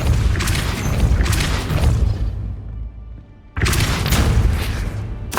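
Depulso spell cast in the Hogwarts Legacy video game, heavy booming blasts with rumbling impacts in two dense bursts separated by a short lull, loud and close.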